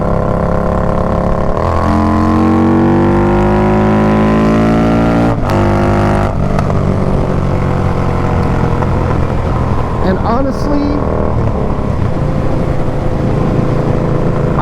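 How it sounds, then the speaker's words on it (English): Engine running through an unbaffled Dirty Bird racing exhaust, a steady droning tone whose pitch sweeps up and down over the run, loud and continuous with a voice talking briefly over it. "This is considered a racing exhaust. It is unbaffled."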